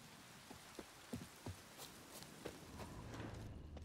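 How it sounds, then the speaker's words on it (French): Rain falls in the video game The Witcher 3, a soft, steady hiss of drops on the ground with a few faint pattering taps and light footsteps, quiet and without talk. "Il va pleuvoir."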